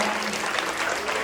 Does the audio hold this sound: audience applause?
yes